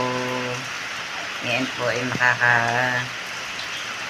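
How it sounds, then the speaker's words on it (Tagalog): Heavy rain falls steadily as a broad, constant hiss through the whole stretch, with someone speaking over it for most of the time. "kaya lamang po ang lakas na naman po ng ulan dito sa amin."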